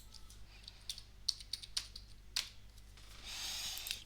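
Someone types on a computer keyboard while writing Python Django code: quiet, irregular bursts of key clicks with a few sharper taps, then a faint rustle at the end.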